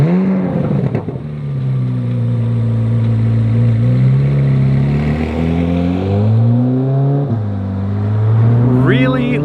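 A Corvette C8 Z06 engine runs steadily and loud throughout, its deep harmonic tone rising and falling as the revs swing, close by at a racetrack.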